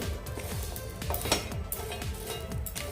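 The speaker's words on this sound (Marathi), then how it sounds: "हे बोंबील आपण व्यवस्थित असे भाजून घेऊया" Bombay duck (bombil) dry-roasting in a pan gives a close, steady low rustle with repeated light scrapes and metallic clinks as the fish is moved around, with no voices.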